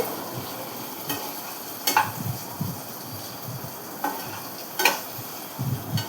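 Potato, cucumber and tomato curry being stirred in a pan, with soft scraping strokes and occasional sharper utensil taps over a faint background sizzle, moderately close and without talk.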